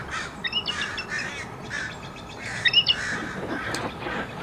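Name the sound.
eagle calling in the distance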